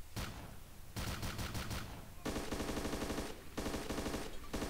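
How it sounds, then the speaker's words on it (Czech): Sustained bursts of machine gun fire in the military video game Arma II, loud, rapid rattling volleys broken by short pauses, with no talk over them. "Střílej! Kulomet."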